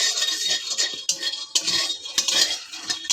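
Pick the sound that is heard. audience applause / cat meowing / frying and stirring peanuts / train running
frying and stirring peanuts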